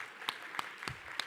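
Scattered, sparse claps from a small audience at a Chamber of Commerce Women in Business dinner event, a handful of separate hand claps spaced out and faint, the applause briefly restarting after an early start.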